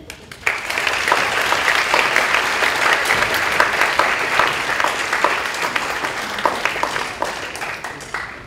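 Warm, sustained applause from a lecture-hall audience welcoming three lecturers at a university talk series, swelling in quickly and holding steady as a dense crowd of clapping hands before tapering slightly at the end.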